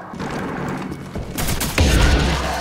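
An AK rifle fires in the video game Call of Duty 4, with bursts of loud, sharp gunfire that grow heavier and end in a booming volley over steady game background noise.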